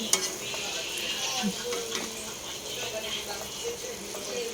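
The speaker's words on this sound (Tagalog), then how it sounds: "Haluin na natin" Chicken adobo being stirred in a pan, with soft scraping and clinking of the utensil over a steady low sizzle, close and moderately quiet throughout.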